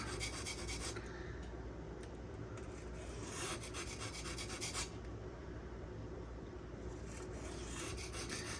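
Steady abrasive rasping of a Spyderco Sage 5 folding knife in Rex121 steel being sharpened at the tip, continuous close strokes with slight surges, no talking.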